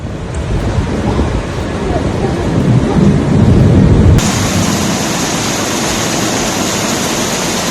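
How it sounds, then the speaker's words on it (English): Loud, dense roar of pounding hail and rushing water in a violent storm, a constant heavy wash that shifts to a brighter hiss partway through. "The sound of the water mixed with the hail was deafening."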